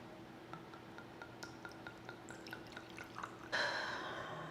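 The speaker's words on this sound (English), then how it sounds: "Let's pour a drink up together." A drink being poured at a New Year's celebration: a string of light drips and trickles, then a louder, steady rush of liquid filling a glass close by near the end.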